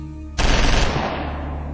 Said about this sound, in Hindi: भीड़ में एक गोली चली